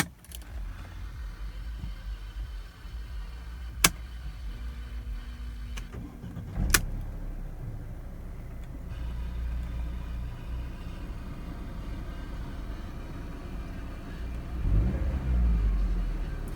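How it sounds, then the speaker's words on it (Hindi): A 2012 Mercedes SLK being started: a couple of sharp clicks and key sounds, then the engine catches and settles into a steady, low, smooth idle rumble that carries on throughout. "अब हम इसके इंजन को स्टार्ट कर लेते हैं।"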